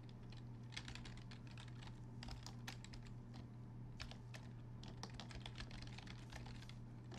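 Fingers typing on a computer keyboard at a Raspberry Pi setup, a steady run of quick, quiet key clicks in uneven bursts over a constant low electrical hum, with no talking.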